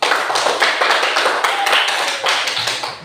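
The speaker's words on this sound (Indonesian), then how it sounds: "Tepuk tangan buat kelompok 1." A school class applauding a group of pupils in the classroom, dense loud clapping from many hands, sustained for about three seconds and fading slightly at the end.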